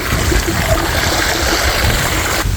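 Water pouring from a storage tank pipe into farm fields, a loud, steady gushing and gurgling stream close by with no talk.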